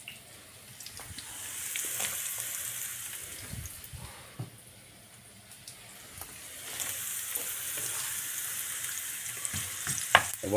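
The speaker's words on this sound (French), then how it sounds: "On va faire une poêlée de poireaux, navets et oignons à l'huile d'olive." Leeks, turnips and onions fry in olive oil in a pan, a steady sizzle that swells and fades over about ten seconds, with occasional stirring clinks and a sharper scrape near the end.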